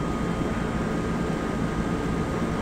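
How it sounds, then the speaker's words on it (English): An air conditioner runs in a house near a large patio, a steady broadband whooshing hum, close and unchanging, with no talk. "It's an air conditioner."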